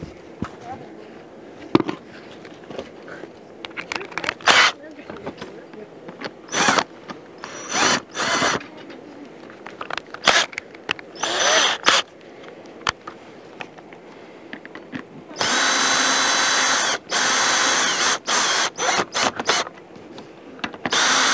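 Power drill on an RV rubber roof driving screws in repeated short bursts, loud and close, with pauses between runs and a longer sustained run near the end; people talk in between.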